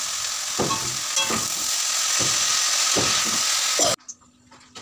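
Potatoes and eggplant with beans cook in a hot pan, a steady sizzle broken by several scraping stirs before the frying stops abruptly near the end.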